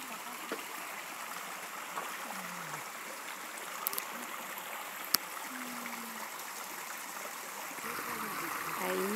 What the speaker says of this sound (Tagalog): Ayan yung sapa namin.